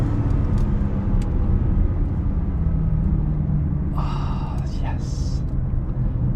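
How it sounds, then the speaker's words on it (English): Heard from inside, a BMW M3 Competition G80 accelerates hard with a loud, sustained engine roar and road rumble, while a driver speaks over it. "This accelerates like nothing I've ever driven."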